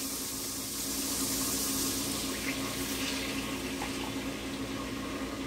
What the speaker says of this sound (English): I'm going to add in the stock.